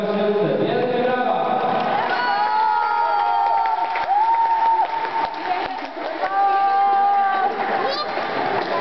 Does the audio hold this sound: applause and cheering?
yes